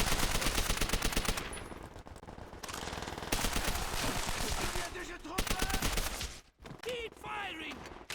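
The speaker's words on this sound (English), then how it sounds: "Just killing enemies with the MP40 because it's such a classic weapon." MP40 submachine gun fire in the video game Call of Duty: World at War, with rapid automatic bursts, explosions and battle noise running loud and dense throughout, broken by a brief gap near the end.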